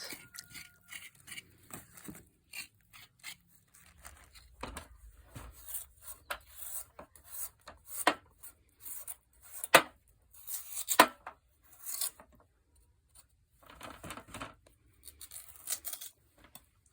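A knife scrapes and rasps soil off sugar beets in a series of irregular scratching strokes, close and fairly quiet, with occasional sharper scrapes and no talking.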